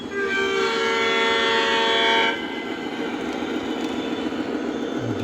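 A model train, the booze train, rolls past loud and close, sounding a bright, sustained horn-like tone for about two seconds before it cuts off, leaving a steady running rumble.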